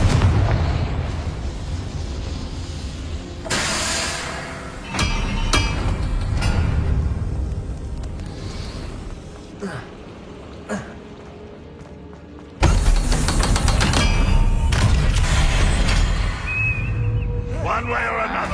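Blasting-spell explosions from the wizarding game Hogwarts Legacy: heavy booms burst out over a rumbling, continuous din of combat, with a big blast near the middle, while voices speak over the fighting.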